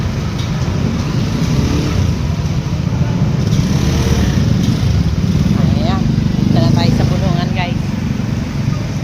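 Motorcycles pass on a slippery road at a busy Sunday market, a steady engine drone running throughout with a louder swell midway, under crowd chatter and a few high chirping sounds.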